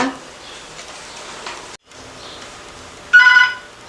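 A short electronic telephone ring bursts out near the end, loud and close, after a stretch of quiet indoor room noise with a brief dropout.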